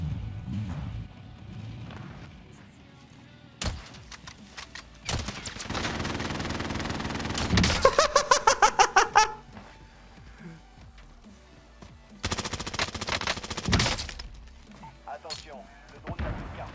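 Bursts of rapid gunfire from a new weapon in a French-language shooter game, including one fast rattling volley and several shorter loud bursts amid game effects, with someone talking over much of it.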